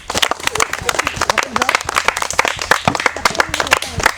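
A group of children clapping steadily at a yogurt-eating contest, with quick overlapping claps running continuously for several seconds and voices talking underneath.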